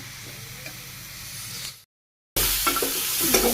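Vegetables seasoned with salt, turmeric and chili powder sizzle and fry in a wok while being stirred, a steady close crackle that cuts out briefly to silence mid-clip, then resumes louder.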